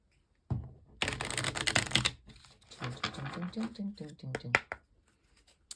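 A quick tarot card shuffle of rapid papery riffling and flicks, with a person talking intermittently over it.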